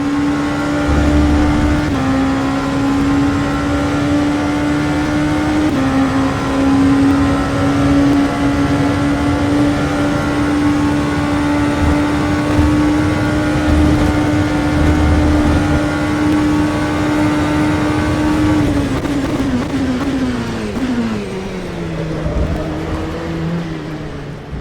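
An LMP2 race car engine in rFactor 2 holds a loud, steady high-pitched whine for about twenty seconds, then downshifts with falling pitch and revs near the end, with no talk over it.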